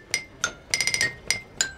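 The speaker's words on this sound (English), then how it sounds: "we have the xylophone," Bright, ringing theatre organ xylophone notes struck one at a time, then a quick run of five or six rapid hits, then two more single notes, clear and close.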